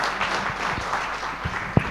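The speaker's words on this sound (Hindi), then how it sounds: "युवा टीम के लिए जोरदार तालियां हो जाएं" Audience applause for a youth team at a Jeevan Vidya camp session, fairly faint and diffuse clapping with a few sharper nearby claps standing out.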